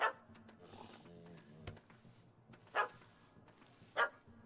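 A dog in The Witcher 3 game barks three times in short, spaced yelps, clear and fairly close against quiet low ambience, with faint game sound in between.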